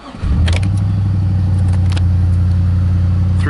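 An old high-mileage truck engine, around 325,000 miles, cranks and catches, then holds a loud, steady low rumble close by with a few sharp knocks and clatters over it.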